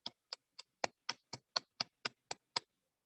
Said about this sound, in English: let us give a huge round of applause to Toastmaster Spurti